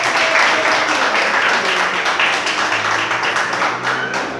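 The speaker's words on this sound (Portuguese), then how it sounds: "Dá uma salva de palmas bem alegre." A church congregation bursts into loud, lively clapping and applause, a dense steady patter of many hands with faint voices mixed in.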